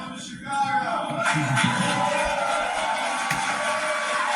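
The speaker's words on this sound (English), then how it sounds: "Standing ovation." A standing ovation from a seated business audience: sustained crowd cheering, whoops and applause swelling up after a brief lull, then holding as a dense, steady roar.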